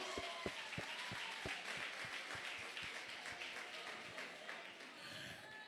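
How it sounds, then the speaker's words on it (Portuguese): Congregation applauding in a church during a Wednesday miracle service, a steady wash of many hands clapping at a distance, fairly faint and even throughout, with a few sharper claps standing out near the start. "Meu Deus, aplauda Jesus!"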